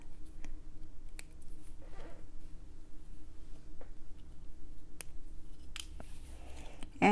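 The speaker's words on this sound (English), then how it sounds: "Then I will cut off the extra thread" Scissors snip away extra beading thread close to the beads of a brick-stitch heart: a few sharp, quiet clicks spread across a hushed background, with no talking.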